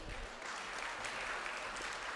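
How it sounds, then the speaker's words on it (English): A crowd at a dental conference gives a round of applause, a dense, steady wash of many hands clapping at moderate distance and continuing evenly for the whole stretch. "Can I request you all to have a round of applause,"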